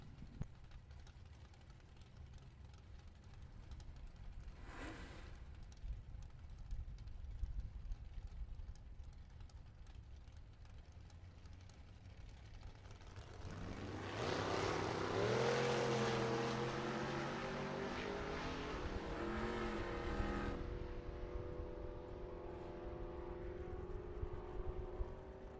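Drag race cars, including a Mustang, blast down a drag strip, a steady engine drone building into a loud, rising roar as a car passes near, then fading back into distant track noise.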